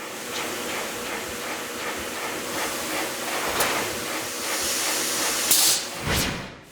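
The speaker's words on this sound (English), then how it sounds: "it's put inside this machine called a shin press, which squashes that knuckle so that it's smooth and flat" A shin press machine squashing the metal knuckle of an eyeglass hinge flat, giving a continuous hissing, steam-like rush with short bursts of higher hiss near the end, similar to a passing train.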